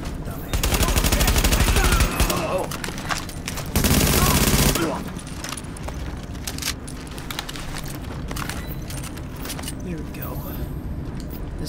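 Gunfire in The Division video game: loud sustained automatic bursts rattle in two long volleys, then fade into scattered shots and game noise, with someone talking over the action.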